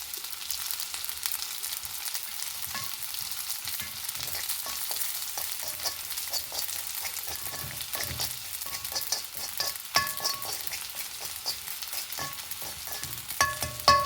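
Fennel seeds and poppy seeds frying in a spoonful of ghee and oil for tomato sambar make a soft, steady crackling sizzle dotted with small pops and occasional stirring clinks, with no voices.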